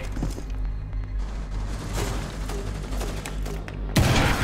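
Bombardment explosions rumble in an Apex Legends match, with dense low booms and crackling bursts of gunfire overlapping continuously, ending in a louder, sharper impact at the close; no talk.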